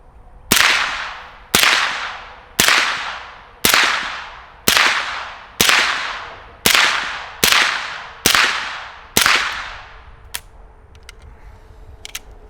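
A suppressed MP5-K firing 115 grain supersonic ammunition lets off ten sharp, loud shots at an even pace of about one per second, each with a quick decaying tail, followed by a few faint clicks.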